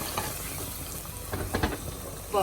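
A glass of water hits hot frying lamb curry in a pan, sizzling and bubbling up in a short burst of crackling steam near the end.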